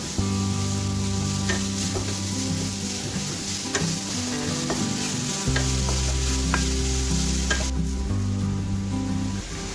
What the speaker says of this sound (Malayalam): സബോള ഇട്ട് കൊടുക്കാം. ഇതൊന്ന് ഇളക്കി കൊടുക്കാം.